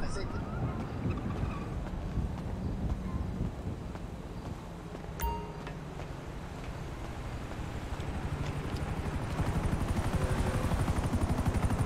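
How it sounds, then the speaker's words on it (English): A helicopter passes overhead in a city at night amid sirens, its low rotor thump and wind-like rush running steadily throughout at moderate loudness and growing slightly stronger toward the end. "Is a helicopter right over here?"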